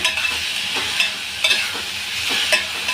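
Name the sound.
masala frying in a pan for sambar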